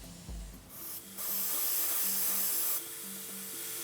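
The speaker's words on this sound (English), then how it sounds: "the brush is spraying it on evenly and easily" A Sparmax Max-4 airbrush with a 0.4 mm needle sprays diluted Life Colour primer in a steady, loud, close airy hiss that cuts in and out a few times, with a low compressor hum underneath.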